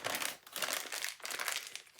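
A plastic piping bag for cake decorating crinkles and rustles in close, loud bursts, with two or three waves of crackling handling and no speech.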